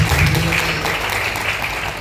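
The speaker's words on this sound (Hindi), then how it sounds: "एक बार जोरदार ताली होना चाहिए।" A crowd claps continuously, a dense patter of applause that holds steady throughout, with a faint voice briefly underneath at the start.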